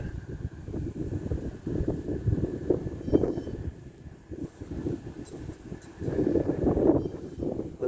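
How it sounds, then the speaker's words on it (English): Gusty wind at a campground buffeting the microphone in low rumbling bursts, rising and falling over several seconds, with no one talking. "Windy."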